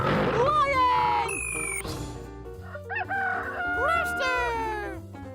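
A rooster crows loudly up close in a series of overlapping cock-a-doodle-doo calls with rising and falling harmonic sweeps, mixed with busy clucking throughout.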